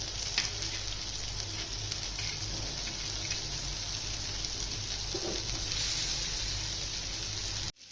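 Raja Rani fish sizzles and crackles in hot oil in a pan, a steady hiss that runs throughout and cuts off abruptly at the end; no voices.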